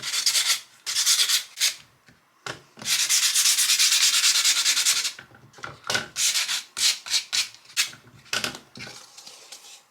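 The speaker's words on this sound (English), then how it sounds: "I'm just going to take my sandpaper here and I'm going to rough this up a little bit." Sandpaper roughs up a Dollar Tree Halloween decoration in close, loud rasping strokes, first a quick series of short rubs, then one long continuous stretch, then more short irregular scrapes, with no talking.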